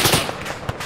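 Gunfire in the military video game ArmA 3 during a Humvee ambush: a few sharp, cracking shots in quick succession, loud and close, with no talking.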